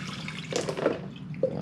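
Rinse water sloshes and splashes as it is poured out of an Avalon bottom-loading water cooler during cleaning, with a few short gurgling bursts at moderate volume and no talking.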